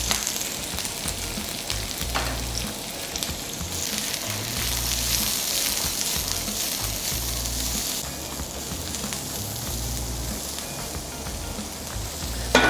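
Chopped onions with a little garlic sizzle and fry steadily in hot oil in a pan while cooking a South Indian chutney for dosa and idli, a continuous crackling hiss with occasional stirring.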